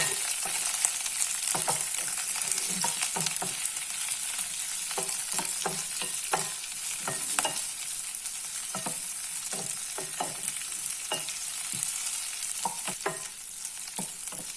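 Chopped onion sizzles steadily in hot oil in a pan for curry, with frequent scraping stirs of a spatula on the pan throughout, close and alone with no talking.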